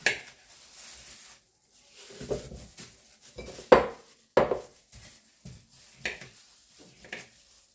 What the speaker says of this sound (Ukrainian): І так нарізаю решту огірків.